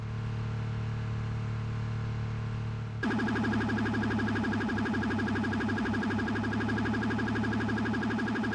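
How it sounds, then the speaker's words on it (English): A siren in the game Project Life switches on a few seconds in and wails in a fast, steady pulsing cycle over a low, constant engine hum, loud and close. "No need for the siren."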